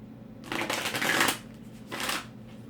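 A deck of Mina Tarot cards by Inner Hue being shuffled up close, with a long riffling burst followed by a shorter second one, nobody talking.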